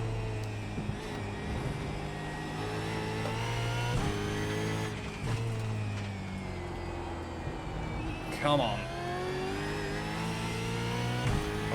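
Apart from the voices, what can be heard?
Australian Supercar engine racing at Brands Hatch in iRacing video game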